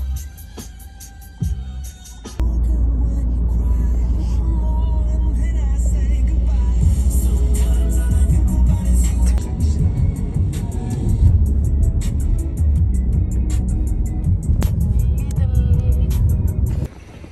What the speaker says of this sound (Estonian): Auto.